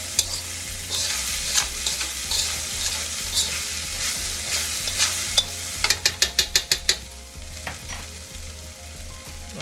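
Chicken fried rice sizzles steadily in a hot pan while a utensil stirs it, with a quick run of sharp scraping clinks partway through and continuous frying hiss underneath.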